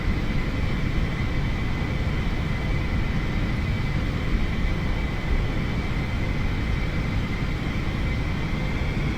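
A steady, unbroken whine and rumble as an Eclipse 550 jet taxis down a runway in the X-Plane 11 flight simulator, constant in level throughout with no voices.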